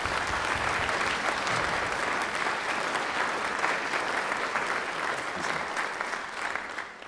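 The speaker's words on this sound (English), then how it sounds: "Can we get one last round of applause for Irv Wagner?" An audience claps at the end of an Oklahoma Community Orchestra concert, a steady, even wash of applause from a seated crowd that holds level and then fades slightly toward the end.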